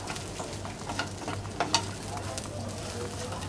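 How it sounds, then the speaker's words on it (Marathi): Spice masala for a Konkani chicken curry roasting in a pan, a soft steady sizzle with a few scraping stirs, close and fairly quiet, without talk. "आपला मसाला भाजून झाला आहे"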